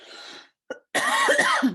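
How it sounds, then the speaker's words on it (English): A close, throaty cough rasps out, followed by a brief throat sound and then a longer, harsher coughing fit. "I'm going to cough through this."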